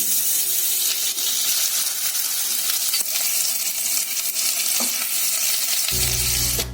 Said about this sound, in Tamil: பாத்திரம் சூடான உடனே ஒரு 2 ஸ்பூன் அளவுக்கு பட்டர் சேர்த்துக்கலாம்.